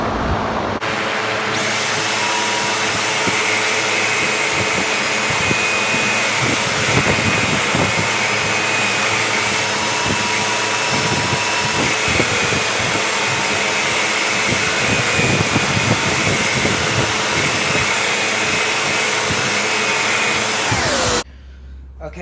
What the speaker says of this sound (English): So I'm going to use this power sander to start rounding it out.